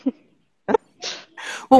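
A baby sneezes softly a few times in short bursts, close and alone in a quiet room, with a brief adult word heard just before.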